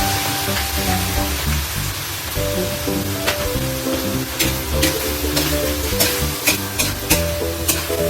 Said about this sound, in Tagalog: palabutin muna natin yung karne